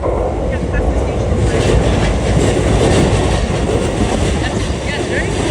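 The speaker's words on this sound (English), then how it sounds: "You get all the trains going through here, including the Yamanote." Trains rumble steadily through Uguisudani Station in Tokyo, including Yamanote Line services, a loud continuous roar with rail clatter heard close by, with faint talk underneath.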